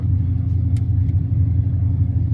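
A Mitsubishi Evo rolls up at an autocross event with a low, steady engine rumble heard from inside the car, loud and close, with no voices.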